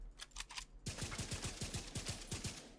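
Rapid gunfire from a weapon in the video game The Division 2, a fast, even string of sharp shots following a brief quieter stretch and continuing through to the end.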